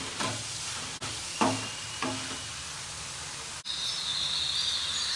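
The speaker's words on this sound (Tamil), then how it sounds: "கேரட் ஒரு 2 மினிட்ஸ் போல் நெய்யில் வதங்கிடுச்சு" Carrots sauté in hot ghee in a pan with a constant close sizzling hiss, broken by a few spoon scrapes and stirring clatters.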